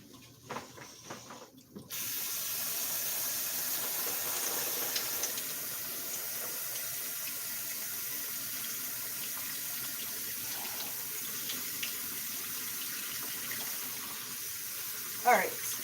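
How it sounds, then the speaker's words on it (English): Tap water gushes steadily into a sink as a leek is rinsed, switching on abruptly after a couple of seconds of small clatter, then running loud and continuous until a brief knock near the end. "I need to rinse my leek off real quick."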